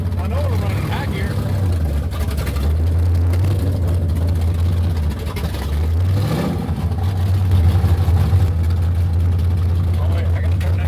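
Engine of the Calamity Jane vehicle running, a custom build with 2016 rear suspension work: a loud steady low engine drone with rises and dips in revs, under people talking.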